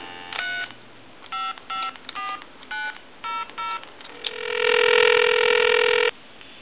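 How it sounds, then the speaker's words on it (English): An AT&T 530 Trimline telephone dials out in a quick run of short, evenly spaced touch-tone beeps, followed by a steady, loud dial tone that holds for a couple of seconds and then cuts off. "Give you some dial tone."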